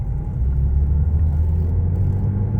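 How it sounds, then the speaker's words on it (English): Ford Fiesta with its AC compressor whirring at low speed while driving: a loud, continuous low rumble and hum of the car, steady throughout with no talk. "It does seem like the AC compressor is making a whirling noise at low speeds."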